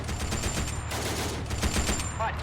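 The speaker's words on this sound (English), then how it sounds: "MG over here is unloading on them too." Rapid machine gun fire in a World War II video game set during the 1940 invasion of Greece, with ANZAC forces defending a bridge crossing. The dense, rattling bursts come in quick repeated pulses, loud and close, with heavy battle noise underneath.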